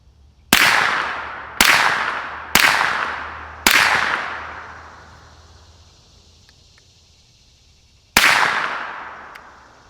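A CZ Scorpion fired suppressed with an AB Suppressors F4 can: five sharp, loud reports, four in quick uneven succession and a fifth after a pause, each with a decaying tail and no talking.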